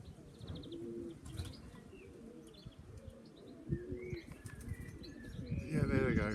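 Pigeons at dusk over a loft, wings flapping as they take off, with soft cooing and chirps, moderately close, rising to a louder flurry of wingbeats at the end, and a person talking quietly.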